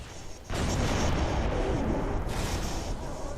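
In Halo 3, the Arbiter firing his rocket launcher: a sudden loud blast that holds as a dense, roaring rumble, with a second surge near the end.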